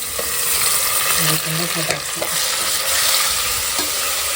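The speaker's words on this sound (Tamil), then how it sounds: "சூப்பரா வெங்காயம் வதங்கிடுச்சு நம்ம இஞ்சி பூண்டு இஞ்சி பூண்டு சேர்த்துக்கலாம்" Onions sizzle steadily in a hot pan while ginger and garlic are stirred in, a dense close frying hiss with faint scraping of a spoon and no talking.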